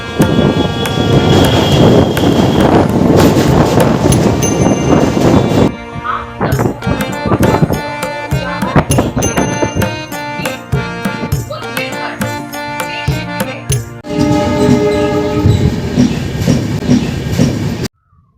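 A Santragachi–Amta local passenger train rolls past loudly, wheels clattering in a steady rhythmic clickety-clack, with metallic rattles and a brief squeal as carriages go by.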